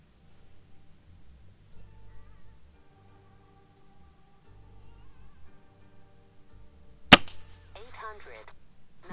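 A Gamo Hunter Extreme Pro air rifle fires a single sharp pellet shot, a loud crack after quiet outdoor ambience with faint insect chirps, followed by a short metallic ring.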